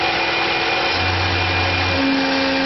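Tormach PCNC 1100 CNC mill rapidly cutting tooling plate held in a vise, a steady loud machining drone with a sustained whine whose pitch shifts partway through, alone without talk.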